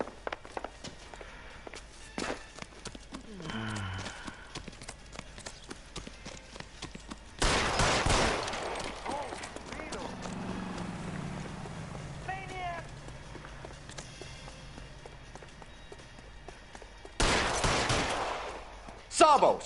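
Gunfire in the L.A. Noire video game, a few sharp loud bursts spaced far apart amid quieter footsteps and background game sounds, with voices speaking in between.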